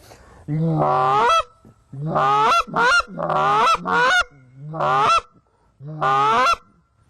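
A goose call blown by a person gives a series of loud, sharp two-note clucks and honks in short bursts, imitating a Canada goose, with no talking.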